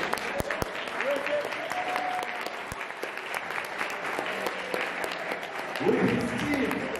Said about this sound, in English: I want you to all stand up, please, and give him a big round of applause.